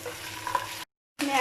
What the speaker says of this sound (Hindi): थोड़ा सा कड़कड़ाने के बाद इसमें ऐड कर रही हूँ 1 टीस्पून लहसुन पेस्ट और 1 टीस्पून अदरक पेस्ट